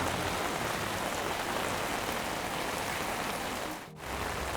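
Rain falls steadily on a street in Krabi, Thailand, a continuous, even wash of patter that dips briefly near the end.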